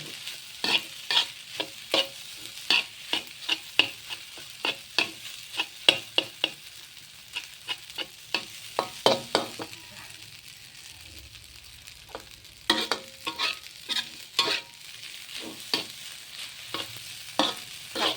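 Leftover rice being stir-fried with egg in a pan, a steady run of sharp spatula scrapes and clacks over a soft sizzle, with a brief lull midway before the rhythmic stirring picks up again.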